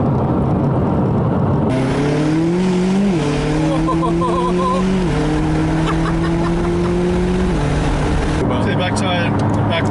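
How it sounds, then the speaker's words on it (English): McLaren 765LT sports car pulling away, its engine note climbing through several gear changes with stepped pitch drops, loud and close, with a voice briefly over it near the end. "we're going to take his McLaren through the drive-thru"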